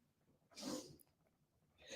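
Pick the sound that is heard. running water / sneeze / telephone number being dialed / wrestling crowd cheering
sneeze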